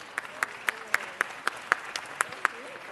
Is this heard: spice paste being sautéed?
no